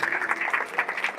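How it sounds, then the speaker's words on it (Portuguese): Congregation applause during a church sermon, a brief dense wash of many hands clapping at steady moderate volume, heard alone without speech. "Aplauda Jesus"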